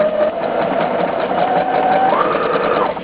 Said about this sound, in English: set your sewing machine to something that you think is good for the lace